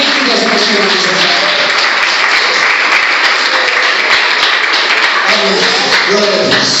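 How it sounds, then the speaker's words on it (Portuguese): Strong, continuous applause from a church congregation clapping for Jesus during an evening sermon by a woman pastor, loud and steady throughout with voices and shouts mixed into the clapping. "uma salva de palmas bem forte para Jesus"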